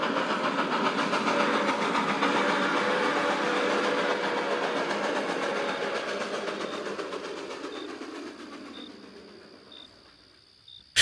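Steam train passing by as an audiobook sound effect: a loud, steady broadband rumble with rhythmic chuffing that slowly fades over several seconds, with a thin whistle-like tone near the end.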